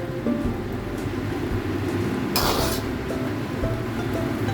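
A spoon scrapes and clinks against a cooking pan while tangra posto, a Bengali fish dish in poppy seed paste, is stirred, with a low steady background hum and a brief bright burst of clatter midway.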